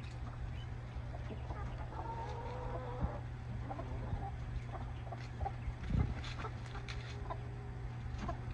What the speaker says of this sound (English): These are happy chickens.